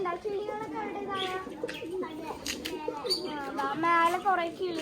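Pigeons at a coop in a garden coo repeatedly in soft, rolling, close calls that overlap one another, while people talk over them.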